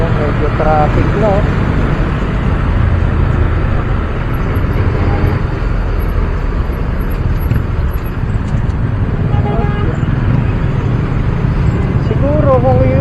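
Steady road traffic rumble heard from a moving motorcycle, broadband and loud with constant wind and engine noise, no break across the whole stretch.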